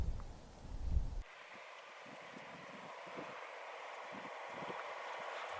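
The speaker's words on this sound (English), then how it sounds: "The wind gets stronger now" Strong wind gusting through a wild outdoor setting on a caribou hunt, a steady broad roar of moderate loudness after a short opening bump of microphone buffeting, with no talking.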